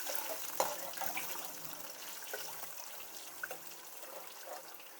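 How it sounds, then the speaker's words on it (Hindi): Water pours into a cooking pot for boiling rice, a steady broadband trickle and splash at close range with a few small clinks, no voices. "अब मैं यहाँ पानी डाल रही हूँ।"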